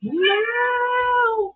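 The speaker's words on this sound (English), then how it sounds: "That's a cat named Solstice, if you heard him." A single long, drawn-out meow from a cat named Solstice, loud and close, rising then holding steady before tapering off, with a brief exclamation from a person at the start.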